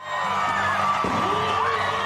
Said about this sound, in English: In a sea of red, they cheered by the tens of thousands